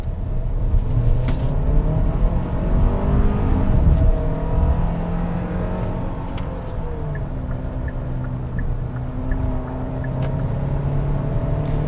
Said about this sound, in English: I've got the drive mode selector in sport so we can show off our sportiness, and if I put my foot